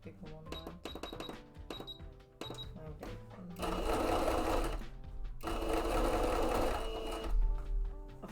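A sewing machine stitches in short, clattering runs at first, then in two longer sustained bursts of rapid mechanical whirring, loud and close.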